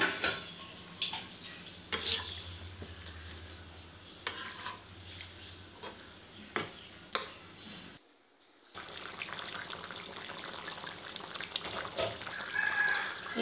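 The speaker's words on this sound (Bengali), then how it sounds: "একটু লাড়াচাড়া দিয়ে দিই।" Pangas fish curry with kochur mukhi being stirred in a pot, bringing soft scrapes, clinks of a utensil against metal and a low simmering bubble, fairly quiet with a short silent gap partway through.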